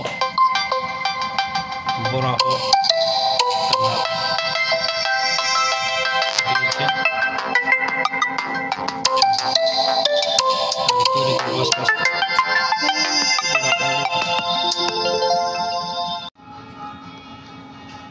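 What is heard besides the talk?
phone ringtone from incoming call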